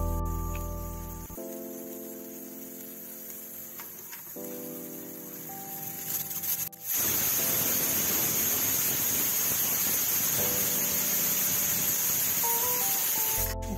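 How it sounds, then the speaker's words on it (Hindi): A pressure cooker of moong and masoor lentils on a gas flame lets out a loud, steady steam whistle that suddenly bursts into a sustained hiss, with kitchen hum and intermittent tonal beeps in the background. "दो सीटी आ चुकी हैं, अब हम गैस को बंद कर देंगे"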